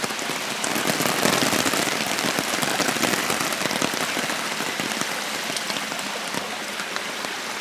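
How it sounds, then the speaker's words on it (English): Steady rain falls on a wet, muddy forest trail near a waterfall, a dense, even patter hissing close by with no pause and no voices. "it's raining, we got the umbrellas out, and it's kind of wet and muddy"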